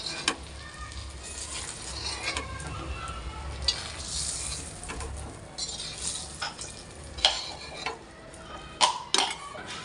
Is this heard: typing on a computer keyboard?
no